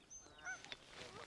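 A few Canada geese honk briefly at moderate distance in a wildlife area, their calls overlapping in a short chorus.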